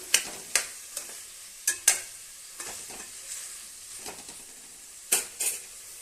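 Bottle gourd and peas sautéing with a little salt in a pan for biryani: a spatula scrapes and stirs in several sharp, irregular strokes over a soft, steady sizzle, close by with no voices.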